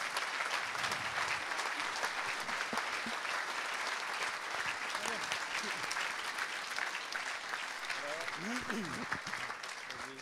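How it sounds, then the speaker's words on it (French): An audience applauds as Francis Luzin walks on stage at an awards ceremony for Chef of the Year, a sustained, even roar of clapping at moderate volume with a few voices rising faintly through it. "je vous demande tous d'applaudir Francis Luzin qui nous rejoint sur scène"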